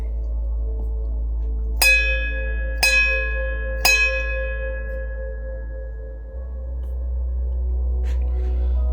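A bell is rung three times at about one-second intervals, each strike bright and close with a long ringing decay, over a steady low hum, with no talk.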